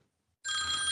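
Telephone ringing in an assembly chamber, a single sudden bright electronic ring that starts abruptly after a short silence and holds steady, fairly loud.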